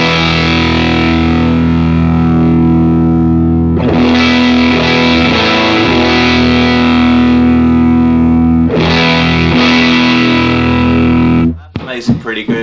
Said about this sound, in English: And this is the DL30 pedal.